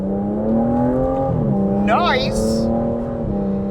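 A 2025 Aston Martin Vanquish V12 pulls away on a street, a steady engine drone rising in pitch as it accelerates beneath an excited voice.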